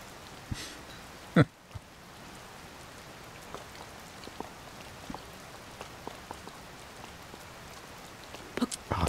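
Rain in Zelda: Tears of the Kingdom patters softly and steadily, with scattered drops and a few sharper taps, one louder near the start and a cluster at the end.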